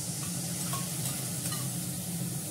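Beaten sour yogurt hitting hot fried spices in a pan, a loud, continuous sizzle with stirring scrapes, steady throughout with no talking.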